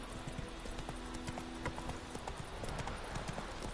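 Horse hooves clip-clop in a steady, fast galloping rhythm across the whole stretch as the horse Roach runs in The Witcher 3 video game, with the sound close and continuous.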